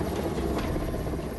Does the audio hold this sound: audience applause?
no